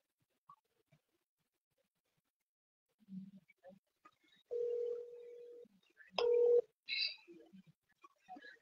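A phone gives short electronic tones for an incoming call, a few brief steady beeps and a higher chirp in an otherwise quiet room, with faint murmurs between them.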